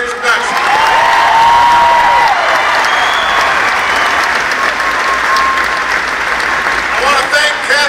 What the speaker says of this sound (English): I want everybody to give a big round of applause to Charlie Dilbert for that great introducti